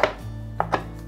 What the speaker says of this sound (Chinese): 把香菇角先切條，換一個方向切碎